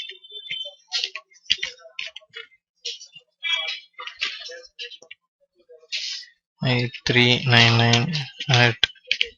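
An email ID is entered on a computer keyboard, giving sparse, light keystroke clicks with gaps between them, followed by someone speaking up close.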